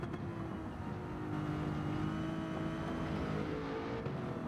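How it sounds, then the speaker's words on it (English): An Aston Martin race car engine in Gran Turismo 7 roars steadily and loudly, heard alongside a straight-six Jaguar D-Type on a Le Mans straight, a continuous dense engine drone with no pauses. "Oh, listen to that Aston."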